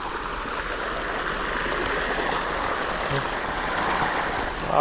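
Continuous rushing of water flowing through a field channel, steady and fairly close, with no pauses.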